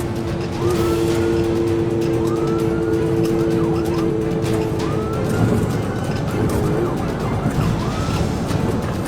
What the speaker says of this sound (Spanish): Las sirenas cortaban el aire de verano